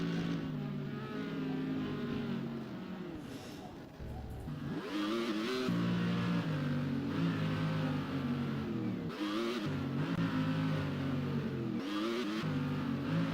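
A racing car engine in rFactor at Road Atlanta drones and shifts pitch as it brakes and accelerates, a steady buzzing note that dips briefly and then climbs again, moderately loud with no voices.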